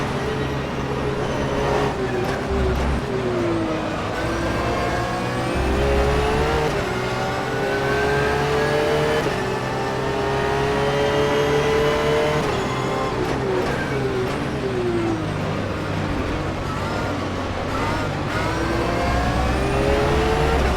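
Porsche 911 GT3 R racing around Imola in rFactor 2, its engine revving loud and close, rising through gears, dropping on downshifts and climbing again in steady sweeps, with no voice heard.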